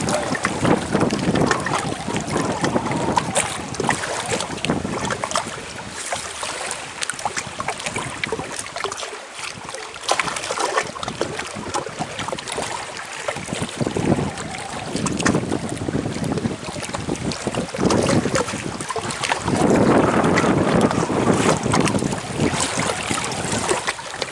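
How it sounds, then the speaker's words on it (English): Wind buffets the microphone in a continuous rough rumble, with water splashing faintly around a fishing boat on the Killarney Lakes underneath. "The old wind now is blowing right at the camera"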